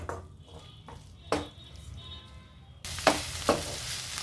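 Schezwan sauce and soy sauce are stirred in a hot pan with a soft sizzle, a few spoon scrapes and clinks, and the frying grows louder partway through.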